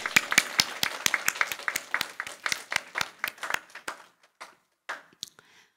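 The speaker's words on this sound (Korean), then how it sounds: "박수 소리가 크시네요." A church congregation claps in rhythmic, fairly close unison beats that thin out after about four seconds into a few scattered, trailing claps.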